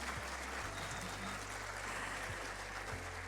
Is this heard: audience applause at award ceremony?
yes